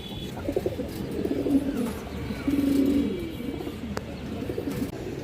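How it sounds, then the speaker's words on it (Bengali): Low, throaty pigeon coos repeat in soft rolling phrases, with a longer coo in the middle, over steady background noise. "খুব সুন্দর একটা কবুতর"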